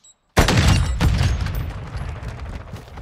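A Semtex grenade in a shooter video game detonates after a brief silence with a sudden, loud, close blast whose rumbling roar slowly decays over the next few seconds.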